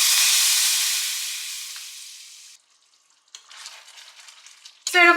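Hot oil tempering with Kashmiri chili powder and kasuri methi bursts into a loud hissing sizzle that fades over two seconds, then near silence, faint clinks and a final sharp sizzle.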